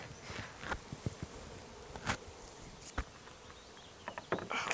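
Honeybees at an opened, failing hive give off a soft, steady buzz close by, crossed by several brief sharper buzzes and taps as individual bees fly past or knock against things.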